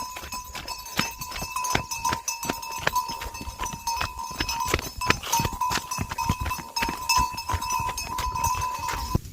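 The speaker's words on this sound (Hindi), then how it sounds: "बैल भी देखो कैसे पूरे रास्ते भागते भागते जा रहा है।" A bull's hooves clattering steadily along a mountain village path in the hills, an irregular running rhythm of near thuds and knocks over busy outdoor background noise, with faint livestock sounds around.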